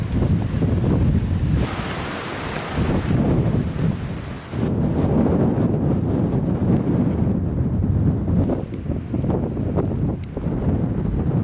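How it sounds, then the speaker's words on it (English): Strong wind blows across open hills on the Pennine Way, a loud, continuous rushing buffet that batters the microphone in gusts, with no talking. "Look at the wind."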